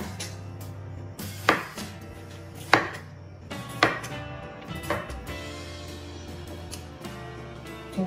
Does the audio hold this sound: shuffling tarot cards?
no